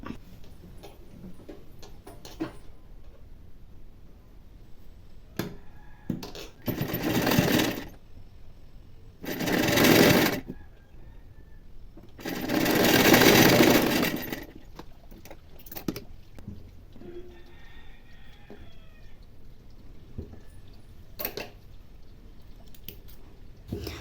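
A sewing machine stitches a hook strip onto a plain blouse, running in three short bursts of loud, steady whirring, separated by quieter stretches of small clicks and fabric handling.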